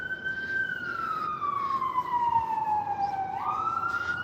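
Emergency vehicle siren on a New York City street near Central Park, a loud wailing tone sweeping slowly downward then jumping back up, heard over a low rumble of traffic and city noise.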